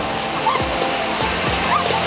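River rapids rush in a steady, loud roar during rubber-raft whitewater rafting, with water splashing against the boat throughout.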